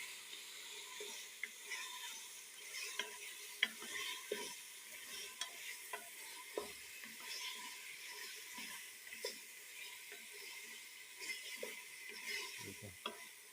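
Mutton and bottle gourd frying in a pot for lauki gosht, a soft steady sizzle with scattered spoon scrapes and stirring knocks, faint and close.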